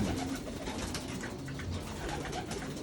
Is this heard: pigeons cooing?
yes